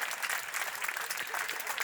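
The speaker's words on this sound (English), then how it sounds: "Give yourself a round of applause." Sustained applause from a crowd at a rally conference in Canada, a steady dense wash of clapping throughout with no pauses.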